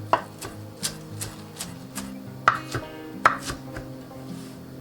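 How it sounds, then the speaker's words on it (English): Leafy greens for lentil soup being roughly chopped with a knife on a board, sharp distinct knocks at an uneven pace, about ten chops, close and clear with no speech. "So the leaves, just a rough chop, doesn't have to be super perfect."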